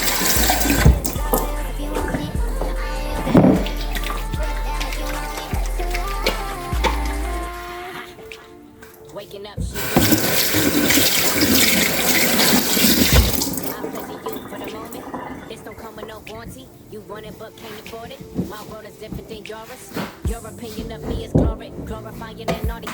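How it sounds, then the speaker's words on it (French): Hands washed under a running tap, water splashing and streaming near the sink in bursts, with people talking in between and over the flow. "Là, on va se laver les mains."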